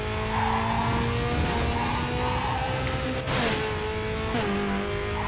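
Race car engine in the Need for Speed Carbon video game, roaring steadily at high revs, then downshifting twice with sharp engine blips near the end, amid game sound effects.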